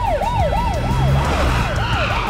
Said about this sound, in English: sirens away.